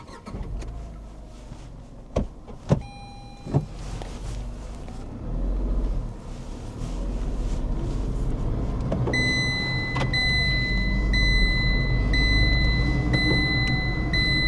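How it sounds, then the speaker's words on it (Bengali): A car driving with its windows open on a road trip near Panbari by the Buxa Bhutan border: a few clicks and beeps, then a steady, loud rush of wind over engine noise, with chiming tones over it. "জানলা খুলেই চালাবো এখন গাড়ি, কারণ হেভি হাওয়া আসছে।"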